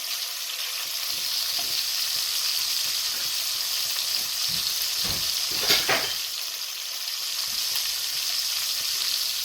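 Pieces of beef browning in a frying pan for a red-wine-marinated beef stew, giving a steady loud sizzle with brief louder crackles and stirring noises near the middle, no talking.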